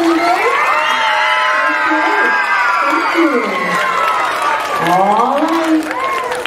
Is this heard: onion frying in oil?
no